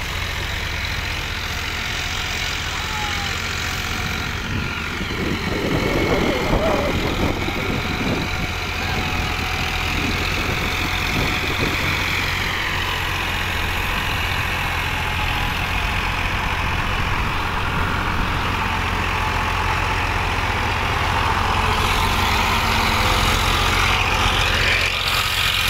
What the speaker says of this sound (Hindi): ये देखो कितना ज्यादा दब दब गाड़ी चल रही है, ये देखो काफी ज्यादा दब रहा ट्रैक्टर।